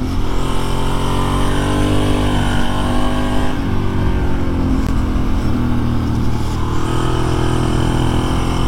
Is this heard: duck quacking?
no